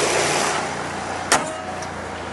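A Mazda RX-7 Series 8 with a stainless exhaust idles steadily up close, a continuous engine note with a brief sharp click partway through.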